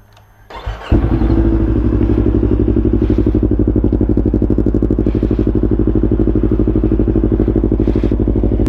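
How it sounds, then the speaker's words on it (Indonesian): A motorcycle engine started and left to idle while warming up: a quick starter churn, then a loud, close, steady putter with an even throbbing rhythm running on alone. "Jadi ya sebelum itu kita panasin aja dulu motornya."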